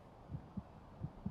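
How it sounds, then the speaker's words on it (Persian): A faint, low heartbeat pulses from the horror game The Cursed Forest, two double-thump beats in steady rhythm over a quiet hum. "از ضربان قلبم خوشم نمیاد."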